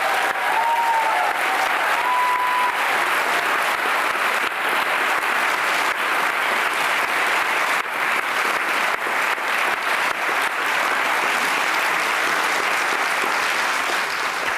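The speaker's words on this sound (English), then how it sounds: "Could we give them all a round of applause?" A theater audience gives a long, sustained round of applause for a panel discussion, a dense and steady clapping that holds for many seconds without speech.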